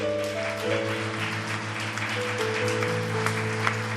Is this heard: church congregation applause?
yes